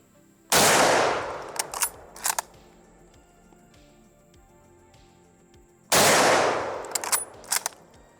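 Two loud, booming .30-06 battle rifle shots several seconds apart outdoors at a range, each followed by metallic action clacks as the rifle is cycled.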